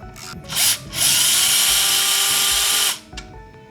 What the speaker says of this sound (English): we're gonna remove this 4mm bolt here